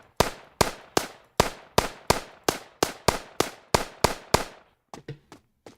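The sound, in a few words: gunshots from a video game made in Unity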